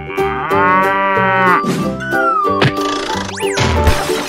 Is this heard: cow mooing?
yes